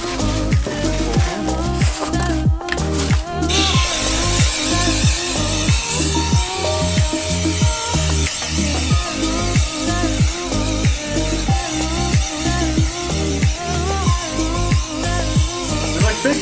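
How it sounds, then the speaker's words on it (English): An air compressor drives a Harbor Freight powder coating gun on car wheels, a loud rhythmic machine pulsing at a steady fast beat with a hissing spray of air over it throughout. "I'm gonna turn up the compressor a little bit."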